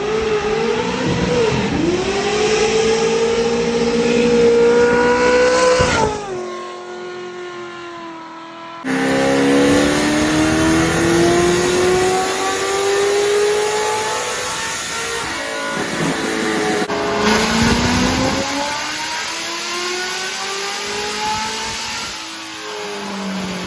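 A supercharged Monte Carlo V8 revs hard in a played-back recording, several long climbing pulls separated by brief drops to idle, loud and close with no talk over it.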